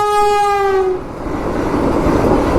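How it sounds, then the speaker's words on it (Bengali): A loud train horn blares for about a second, then gives way to the roaring rush of a Vande Bharat express train passing close by. "গাছ চেক করো ভাই বন্দে ভারত ট্রেন"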